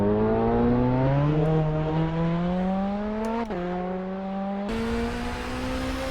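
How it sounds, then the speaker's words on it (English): A 1997 BTCC race car engine revs hard while climbing the Pikes Peak Hill Climb, a loud close steady drone rising in pitch through the gears with one quick shift dip. "driving a race car up this mountain is a lot more intense than a street car"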